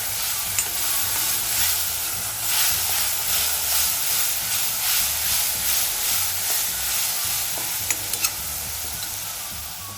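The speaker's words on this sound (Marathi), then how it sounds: "आता हे पेस्ट सगळी फ्राय झालेली आहे आपली अद्रक लसूण आणि कोथिंबीरची" Ginger, garlic and coriander paste frying with reddened onion for a Maharashtrian bhogi vegetable dish, a continuous close sizzle and hiss with soft stirring and a few sharp clicks near the end, no talk.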